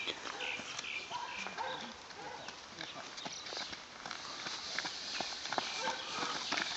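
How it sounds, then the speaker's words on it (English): Hooves clip-clop at a steady walking pace, fairly close, with voices talking over the top of the steps. "Jonesy, what a horse. What a horse"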